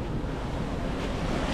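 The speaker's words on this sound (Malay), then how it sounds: "Oh, dapat ombak." Ocean waves at a beach in Penang, a steady broadband wash of surf with wind buffeting the microphone, continuous and fairly loud throughout.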